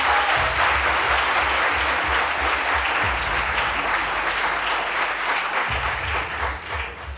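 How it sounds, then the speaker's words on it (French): Sustained audience applause for a pastor at a midday church gathering, a thick, loud, even roar of many clapping hands lasting several seconds, with a low hum beneath and a slight fade at the end. "Merci d'applaudir le Pasteur Boga."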